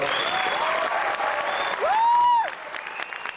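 Audience applause for industrial designer Jacque Fresco at a New York event, a dense continuous clapping from a crowd, overlaid by a clear rising and falling whistle near the middle.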